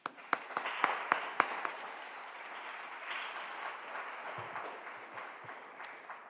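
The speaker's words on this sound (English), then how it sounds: "Let's give them a round of applause." Audience at a university climate and democracy panel forum applauding the panelists, beginning with a few sharp distinct claps that swell into soft, steady, moderately distant clapping.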